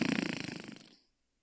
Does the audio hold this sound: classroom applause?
no